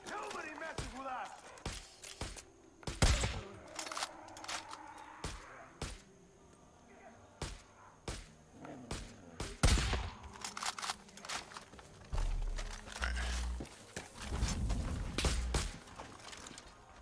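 Sporadic gunshots ring out in Far Cry 5, with sharp single cracks scattered among footsteps and heavier thuds, while players talk over the action.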